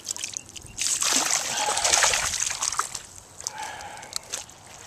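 A released largemouth bass splashes and thrashes in Lake Okeechobee water beside a fishing boat, a close burst of sloshing and splatter that fades into lighter dribbles and drips.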